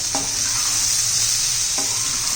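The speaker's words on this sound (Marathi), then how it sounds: "चांगले मिक्स करून घेऊया" Garam masala and turmeric are stirred into sizzling masale bhat, a strong continuous hiss of hot frying with two soft spoon strokes against the pot, close and loud with no talking.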